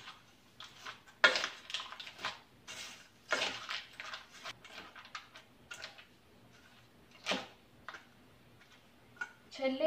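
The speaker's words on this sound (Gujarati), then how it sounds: "હવે આપણે બધું મિક્સ કરી લઈશું." Ingredients for Maggi bhel, including roasted Maggi noodles, are stirred together in a bowl, giving quiet, irregular clicks, taps and light crunchy scrapes in short bursts with brief pauses.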